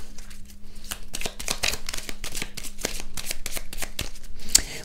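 A deck of Moon oracle cards is shuffled up close, a quick series of soft riffling flicks and taps repeating throughout, with no voice over it.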